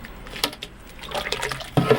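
Melted transparent glycerin soap, made from scratch, pours in a soft liquid stream, trickling faintly before a louder splash of pouring near the end.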